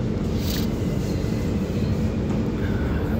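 A Barcelona metro train rumbles steadily inside a station while passengers slowly board, a loud, constant low roar with a faint brief hiss near the start.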